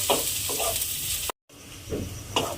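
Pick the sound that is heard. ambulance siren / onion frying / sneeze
onion frying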